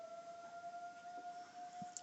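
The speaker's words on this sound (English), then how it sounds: "siren that they have out here." A twelve o'clock town siren holds a steady tone in the distance, faint and continuous with no voices over it.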